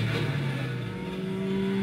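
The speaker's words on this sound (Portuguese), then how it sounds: "O ronco que você tá escutando é da outra." A racing motorcycle roars as another bike passes on track, a loud, steady, high-pitched engine drone with a rising tone toward the end and no voices.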